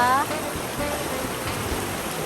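Forest stream in Switzerland said to flow from Lake Geneva, a steady broadband rush of running water filling the whole clip at moderate loudness, with a brief higher tone at the very start.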